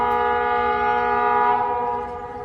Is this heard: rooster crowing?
no